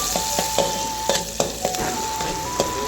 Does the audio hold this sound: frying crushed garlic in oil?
yes